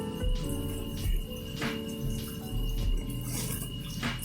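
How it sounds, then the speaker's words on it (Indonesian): Water splashes and patters intermittently as vegetable seedlings in a garden bed are watered, with soft repeated pours and drips close by against low background noise. "Ini kami siram dulu, nanti setelah itu baru kami pupuk."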